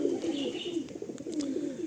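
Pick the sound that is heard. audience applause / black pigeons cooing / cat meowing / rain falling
black pigeons cooing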